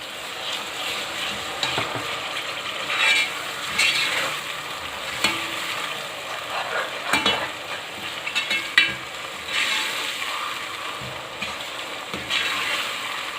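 Ginger garlic paste fries in hot oil with onions and whole spices such as green and black cardamom and a cinnamon piece, a steady close sizzle with stirring scrapes running throughout, no talk.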